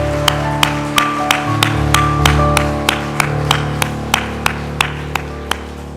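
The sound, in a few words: congregation clapping in welcome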